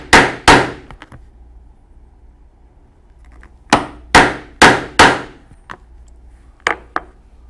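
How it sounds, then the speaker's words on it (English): A leather punch is struck with a mallet to cut a 3/4 inch hole in leather for a saddlebag buckle tab. Sharp, loud blows land in a pair, then a quick run of four, then two lighter taps, with quiet gaps between. "So we will punch a 3/4 inch hole."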